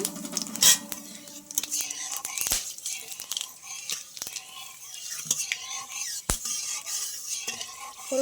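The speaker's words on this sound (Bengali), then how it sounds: "আর গোটা গরম মশলা আমি ফোড়নে দিয়ে দিচ্ছি" Cumin, bay leaves and whole garam masala crackle and sizzle in hot oil, with a steady frying hiss and occasional clinks of a spoon stirring in the pan.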